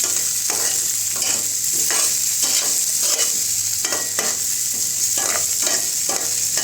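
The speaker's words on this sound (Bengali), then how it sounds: "পাশে আমি আরেকটা প্যানে সামান্য তেল আর একটু পেঁয়াজ দিয়ে আলুগুলোকে একটু ব্রাউন করে ভেজে নিচ্ছি।" Potatoes browning in a little oil with onion in a pan, a steady close sizzle with rhythmic stirring strokes scraping the pan every half second or so, no voices.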